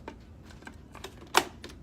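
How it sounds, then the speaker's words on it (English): Plastic lid fitted onto a Cuisinart 4 cup food processor, a few faint clicks and taps followed by one sharper snap as it seats, close and quiet. "so now I'm gonna put my lid back on here"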